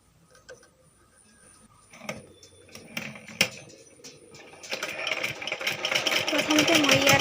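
Sewing machine stitching an Assamese mekhela: scattered clicks and short mechanical taps at first, then a steady, louder rattling run of stitching that builds toward the end, close by.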